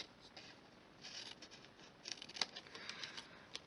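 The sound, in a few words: scissors cutting card stock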